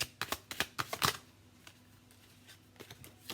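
Tarot cards being shuffled close by, a quick burst of crisp riffling clicks that fades to a few scattered soft card taps, with no talk.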